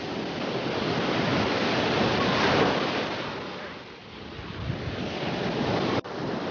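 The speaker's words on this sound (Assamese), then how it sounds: "আজি ঢৌটো বহুত বেছি আছে" Bay of Bengal surf at Puri beach roars continuously as waves break and wash ashore, swelling and easing, with wind buffeting the microphone.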